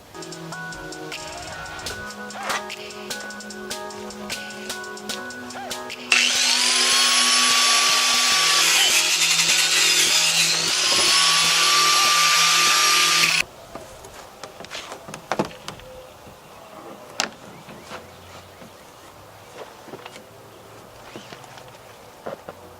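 A power tool cutting a fiberglass splitter lip kit for a wide-body C5 Z06 Corvette runs in a loud, steady high-pitched whine for about seven seconds with a brief dip midway, framed by quieter handling clatter and shuffling before and after.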